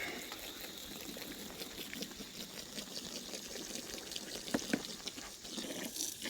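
Water is poured onto dry pig feed in a feed wagon to wet it into slop, a steady faint splashing trickle with a couple of small knocks near the end.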